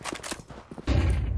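A dense, rapid burst of P90 submachine gun fire in CS2 erupts abruptly after a quieter moment and continues steadily to the end.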